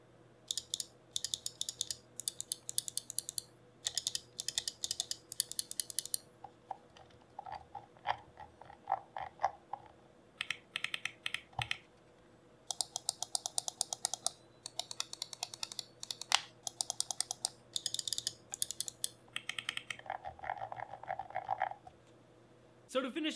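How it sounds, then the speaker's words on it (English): Switches on a HyperX Pulsefire Dart gaming mouse click in quick clustered bursts and scattered single presses, close and crisp but fairly quiet, with faint background hum. "let's real quick do a sound test so you can hear how these switches sound"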